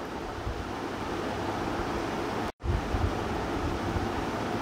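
Hot water poured into a pan of frying mixed vegetables and spices gives a steady, broad hissing sizzle, loud and continuous, with one brief dropout midway.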